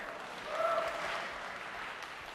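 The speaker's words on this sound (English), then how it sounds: "You're applauding for no more slides." Short round of audience clapping in a tech conference session hall, a soft, steady patter of many hands swelling briefly then holding.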